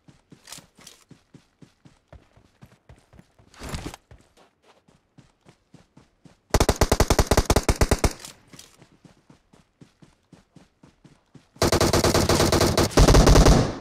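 Gunfire in the mobile battle-royale game PUBG Mobile: loud, close sharp shots in steady rhythmic runs, breaking into two dense bursts of rapid automatic fire, with no talking.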